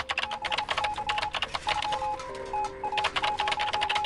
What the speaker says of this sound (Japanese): いい音するからよ、あれ、あの暗号機。